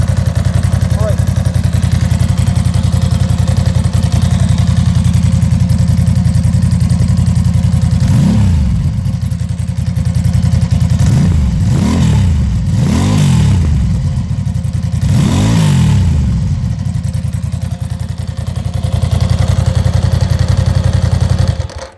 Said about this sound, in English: take a listen to the exhaust here